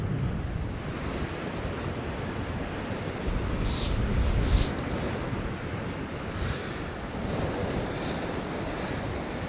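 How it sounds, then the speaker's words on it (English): Sea waves roll in and break steadily on the rocky Northumberland shore at Newbiggin, a continuous loud wash of surf with gusting wind buffeting the microphone. "it's a really nice sea coming in now"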